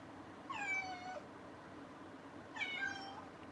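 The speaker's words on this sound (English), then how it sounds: "You are such a pretty kitty, you know that?" A cat in heat gives two drawn-out, wavering meows about two seconds apart, close and fairly loud over a low steady background hum.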